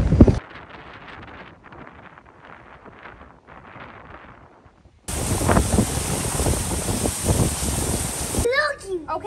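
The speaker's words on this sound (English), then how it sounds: "Random gusts of wind" Gusts of wind during a Kentucky windstorm on a homestead, first a soft outdoor rush, then strong roaring buffeting against the microphone for several seconds before it eases.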